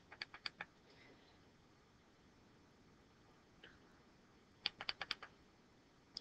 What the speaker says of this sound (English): I'm going to triple click the home button at the end or the bottom of the iPad